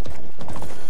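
Horse hooves clip-clopping in a video game, a steady clatter of hoofbeats with a faint mechanical rattle, loud and continuous through a brief moment.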